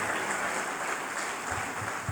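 Steady applause from a church congregation, dense and continuous hand clapping that fills the space throughout.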